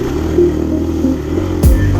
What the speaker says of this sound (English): No, his engine's still up and running.